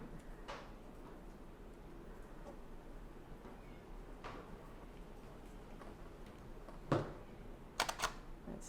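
A camera shutter clicks during a daylight studio-style portrait shoot: a few sparse, faint snaps spread out, then a quick cluster of sharper clicks near the end against a quiet room.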